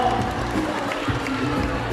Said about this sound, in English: A round of applause for our Solomon.